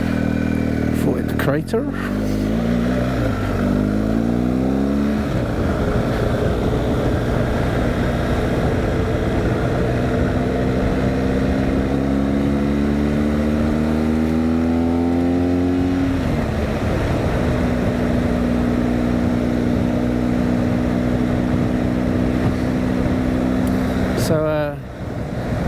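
A motorcycle being ridden, its engine note climbing and dropping through gear changes under steady wind roar. A rider speaks briefly over the engine noise.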